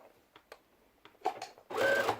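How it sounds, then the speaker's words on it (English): A sewing machine stitches a cotton face mask, giving scattered short mechanical clicks and taps and then a louder, sustained whirring run near the end, with no talk. "let the machine do the stitching till the end"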